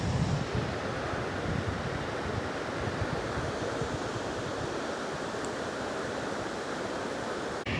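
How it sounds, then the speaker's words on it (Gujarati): Strong wind buffets the microphone at the Sabarmati dam while water pours over the closed gates, forming a loud, steady broadband roar that stays dense and unbroken throughout, with no voices. "હવા ફૂલ ચાલી રહી છે અને પાણીનો પણ અવાજ આવે છે"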